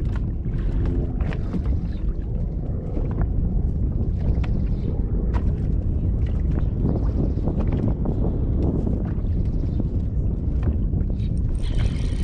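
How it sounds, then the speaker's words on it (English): Wind blowing over a lake from a fishing boat, a loud continuous rumbling buffet against the microphone with gusty swells and light water slapping, no talk. "The wind is being weird."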